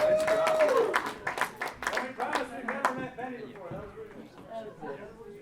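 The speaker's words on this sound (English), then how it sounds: "Big round of applause for these guys right here." An audience bursts into loud applause and cheering at a variety show, clapping densely at first and then thinning out to scattered claps as murmured chatter carries on underneath.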